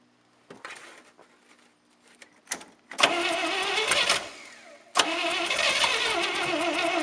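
A 1967 International 1200 truck engine cranks with a few bursts, then catches and runs loudly and roughly from about three seconds on, briefly cutting out before roaring back up at five seconds; no voices.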